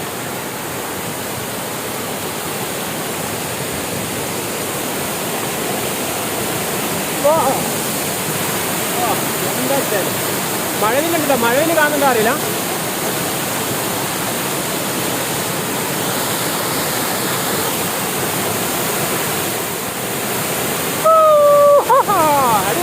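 Steady broadband rush of falling water from the largest waterfall in Kozhikode (Calicut), running throughout, with people talking intermittently over it and a brief high tone near the end.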